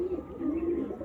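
Soft, low cooing of adult breeding pigeons in a Madras pigeon loft, a close, steady warbling coo lasting about a second.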